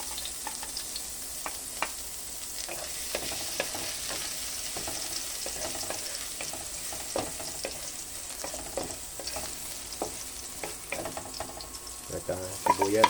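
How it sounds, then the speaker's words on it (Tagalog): Garlic sizzles and fries in a hot pan with a steady crackle, broken by frequent scraping and stirring of a utensil against the metal, close and continuous throughout. "Ayan, gigisa na po tayo ng bawang."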